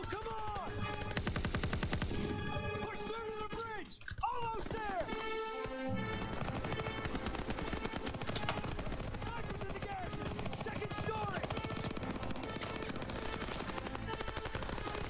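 Rapid gunfire from a weapon in Call of Duty WWII plays on and off throughout as dense, repeated shot bursts, with music and someone speaking over the battle.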